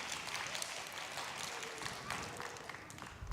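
A small audience at a children's storytelling session about pirate dogs claps, soft scattered applause, faint and somewhat distant, with a thump near the end.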